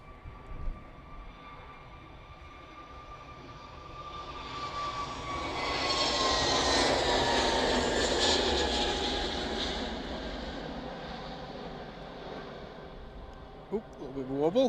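An aircraft rolls down the runway at Manchester Airport, a jet engine roar swelling from a faint hum to a broad, loud rush mid-clip, then slowly fading into the distance, with brief talk at the start and end.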